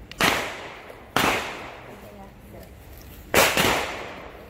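Three sharp gunshots from a sport firearm at basic shooting practice, each a loud crack with a short decaying tail, spaced irregularly with quiet pauses between.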